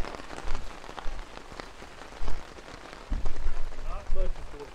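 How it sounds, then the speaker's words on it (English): Hail falls during a Colorado hailstorm at a motorcycle campsite on Grand Mesa, a steady broad patter with several louder thumps and crackles of ice hitting surfaces, while voices talk nearby. "What more fun can you have than a hailstorm"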